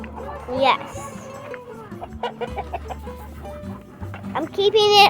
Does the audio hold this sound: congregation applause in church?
no